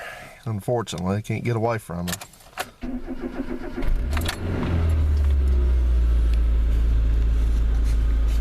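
Someone talks, then a smoking Mazda's engine cranks, catches and settles into a steady rumbling idle close by.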